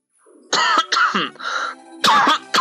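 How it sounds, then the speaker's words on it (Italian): Several harsh coughs come in a loose run of four or five bursts, loud and close, from a character in the Fire Emblem: The Sacred Stones video game. "Colpo di tosse."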